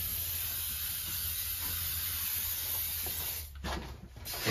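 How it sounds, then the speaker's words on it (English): Silicone spray hisses steadily from an aerosol can into baking tins, a continuous close spray lasting a few seconds before tapering off. "I've got some silicone spray,"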